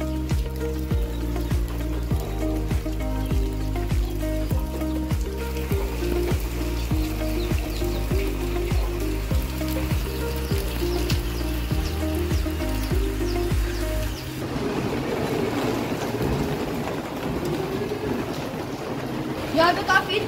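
Steady, heavy rainfall hisses continuously in Pakistan, partly masked by a low droning hum during the first part, then a fuller, brighter downpour takes over near the end.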